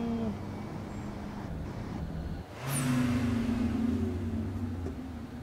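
Vehicle engine in Star Wars The Old Republic on the planet Voss, a steady low rumbling drone that swells louder midway with a whooshing rise, heard alone without talk.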